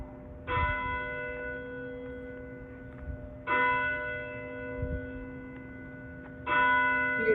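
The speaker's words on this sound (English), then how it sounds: "Church bells, very good." Church bells ring out in three evenly spaced strikes about three seconds apart, each clear, resonant tone decaying slowly before the next, with no voices.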